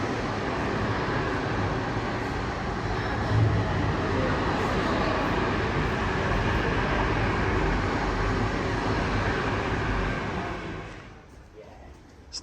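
A train bound for Edinburgh rumbles steadily past a station, a loud, sustained roar that fades toward the end.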